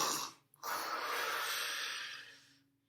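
A reader imitates snoring while telling a children's story, giving one long, breathy, close inhaled snore after a short gasp, then fading out.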